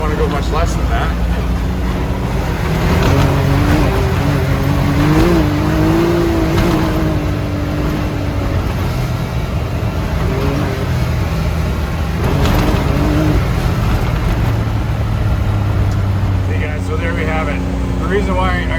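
A Can-Am side-by-side UTV on stock suspension, tires aired down to about 10 psi, drives off-road with a loud, unbroken engine drone and rolling rumble under steady talking.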